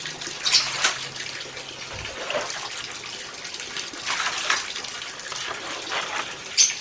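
Water sloshes and gushes out of a container in irregular bursts while rose water is being made, a steady wet pouring close by with no talk.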